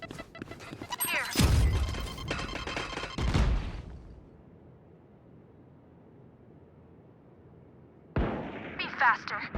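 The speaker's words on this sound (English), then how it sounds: "I need to blow something up. Grenade!" A grenade blast in a first-person shooter game, a booming explosion followed by a second rumbling burst and quiet, then more loud in-game noise, amid speech.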